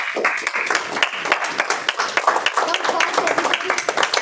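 An audience applauding at a meeting as the organizing committee is called up on stage, giving steady, dense clapping throughout with a voice speaking over it.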